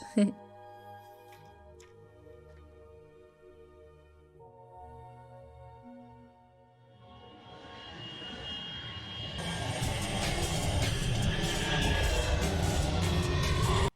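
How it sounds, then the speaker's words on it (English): A private jet's engines rise from quiet into a loud, building roar, layered over film music and dialogue that fade beneath the swelling jet noise. "Private jet."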